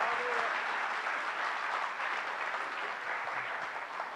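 Audience applause at a Hindi poetry gathering (kavi sammelan) in Ajmer, a steady, dense wash of many hands clapping that holds for several seconds without a break.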